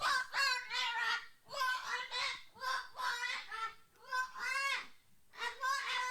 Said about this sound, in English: This is a cockatoo that's not flying, but walking around a house and screaming like a mental patient.